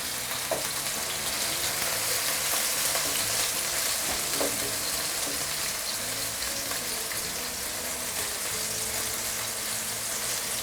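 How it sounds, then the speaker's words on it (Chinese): Fish fillets pan-frying in a flat pan over low heat with a little linseed oil, ginger and scallion added alongside, giving a steady close sizzle with occasional stirring clinks and faint lower hum throughout. "这时候我们把这个鱼柳下入锅中，给它煎一煎，直接给它煎熟"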